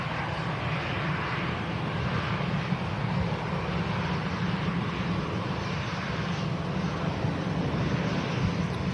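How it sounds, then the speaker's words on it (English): A British Airways shuttle airliner on its landing approach gives a loud, steady engine roar that holds unbroken from start to finish, with no voices. "British Airways shuttle next to land."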